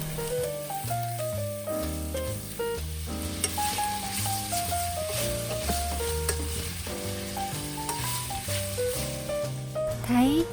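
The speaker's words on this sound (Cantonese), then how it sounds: "可以直接放五花肉落去炒" Pork belly stir-fries in a pot with no added oil, rendering its own fat; a steady sizzle and occasional stirring run continuously beneath prominent background music.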